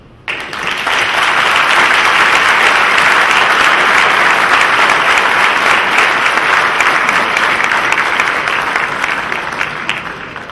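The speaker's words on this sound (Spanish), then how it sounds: "pedirles que a ver si le llega al avión en el que va el aplauso que le queremos dedicar" Sustained, loud applause from an audience at the closing of a national science and technology congress, rising quickly at the start and holding dense and steady for about ten seconds with no speech.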